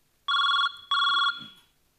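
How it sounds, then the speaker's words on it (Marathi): A telephone rings with two bursts of an electronic ringtone, loud and close, the second burst fading out, with no talking over it. "फोन आला."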